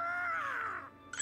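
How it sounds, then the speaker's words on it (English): A single crow caws in an anime, Demon Slayer, giving one loud, hoarse, drawn-out call that slides downward and fades, with a faint bird-like chirp just after. "I forgot the crow was our messenger."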